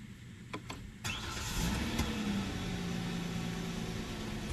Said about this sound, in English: Here's a video of the engine starting now,